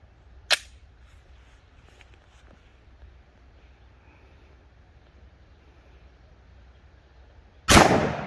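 Two sharp 10mm pistol shots firing DRT Terminal Shock 145-grain rounds into ballistic gel, one faint crack early and one loud, near blast at the end, with quiet room tone between.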